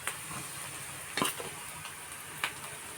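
Onion fries in a pan for tender jackfruit curry, giving a soft continuous sizzle with two brief scrapes of a utensil against the pan, close and moderately quiet.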